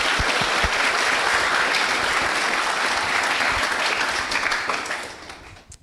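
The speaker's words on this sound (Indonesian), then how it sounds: "Luar biasa, tepuk tangannya dong." A talk show audience at a junior high school Ramadan event breaks into loud, dense applause. It holds evenly for about five seconds, then fades quickly.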